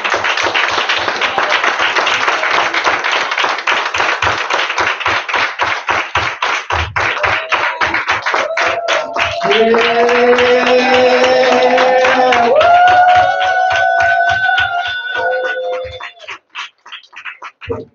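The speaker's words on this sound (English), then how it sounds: "Can we stand up and give our children a round of applause?" Dense crowd clapping rolls on steadily, then sustained tones and cheering-like sounds rise over it before the applause thins out near the end.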